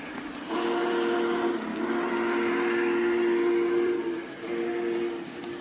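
A steady rolling hum of a Lionel Legacy model train running along its track on a carpet layout, with a sustained tonal whine, continuous and fairly close.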